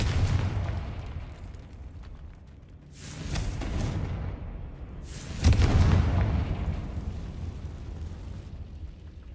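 Booming explosions from the Confringo spell in a Harry Potter video game set at Hogwarts: two loud bursts, at about three and five and a half seconds, each rumbling and decaying over a steady low background.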